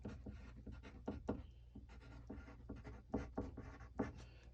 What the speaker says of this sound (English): When I draw my box, I want to start by drawing